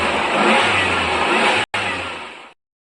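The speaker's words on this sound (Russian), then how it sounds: "Автомобиль." A car engine revs hard in a loud, close burst, a steady roar with a brief cut partway through, then stops abruptly and leaves silence.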